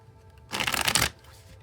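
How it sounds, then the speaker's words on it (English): A deck of tarot cards gets one quick riffle shuffle close by, a brief burst of crisp flapping lasting about half a second amid near silence. "I'll shuffle till the deck feels ready."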